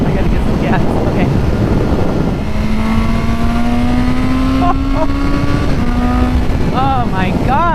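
A 2022 BMW S1000R with a new exhaust rides along, a strong engine drone shifting pitch under heavy wind buffeting, with rising revs near the end.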